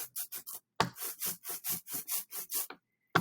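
Printing ink being spread out for a lino print, heard as a close series of about a dozen short, tacky rubbing strokes in a steady back-and-forth rhythm, with a brief pause partway through.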